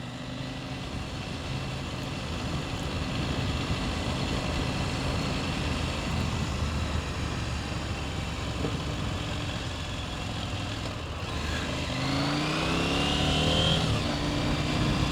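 A KTM 790 Adventure S motorcycle pulls steadily in first gear. Its engine drones with constant wind rush and rises in pitch as it accelerates near the end.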